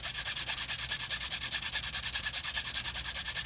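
Rapid rhythmic rubbing as a leather guitar strap edge is water burnished, a steady back-and-forth friction with even strokes, close and soft, with no speech.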